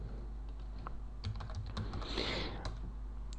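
Typing on a computer keyboard while setting up Ubuntu 12.04 in VirtualBox: a quick run of light, close key clicks over a steady low hum.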